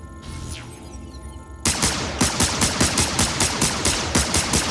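Rapid automatic gunfire from a player's weapon in the VR shooter Damaged Core, a steady burst of evenly spaced loud shots that cuts in abruptly after a quieter stretch of ambient game hum.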